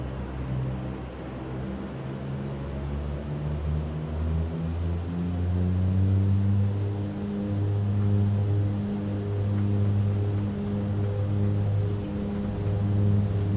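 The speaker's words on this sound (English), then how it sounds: "Takeoff power set." A Q400 turboprop in the X-Plane 12 flight simulator rolls for takeoff with a steady, moderately loud propeller drone and engine hum whose tones slowly rise as it builds speed, with no voices.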